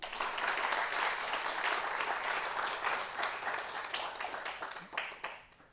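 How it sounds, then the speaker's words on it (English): An audience at an awards ceremony for an international PPH conference gives dense, continuous applause that holds steady, then thins out and fades near the end. "Can you clap louder?"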